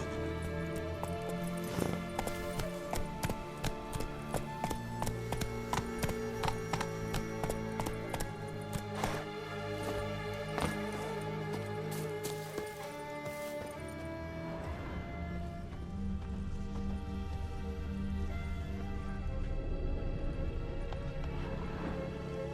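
Hooves of a horse in The Witcher 3 beat in quick repeated clip-clops, steady and fairly close, over a continuous game music bed with harmonic tones and no talking.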